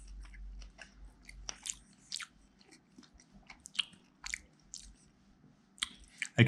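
A mouth bites into and chews a Vietnamese shrimp dumpling up close, with soft wet squishes and scattered crunchy clicks in an irregular rhythm, no talking.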